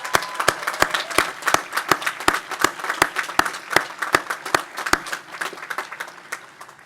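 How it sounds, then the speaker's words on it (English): Sharp, evenly spaced claps ring out from a commencement audience at a Washington and Lee University undergraduate ceremony, a steady rhythmic round of applause that holds loud for several seconds before easing off near the end. "Let's give them a round of applause."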